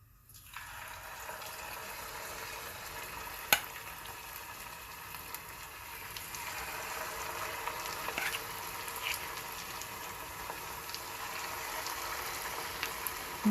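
Green banana fritter batter drops into hot coconut oil, starting quiet and building into a steady bubbling sizzle with scattered pops and crackles, and one sharp clink early on.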